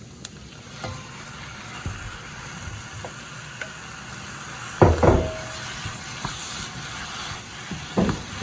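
Mutton pieces dropped into a pan of frying spices for Sri Lankan mutton rolls, a steady close sizzle with occasional stirring scrapes and knocks, a louder burst partway through.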